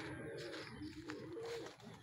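A racing pigeon at a pigeon race clocking loft gives soft low coos, faint and close against a quiet background, in a brief stretch with no talk.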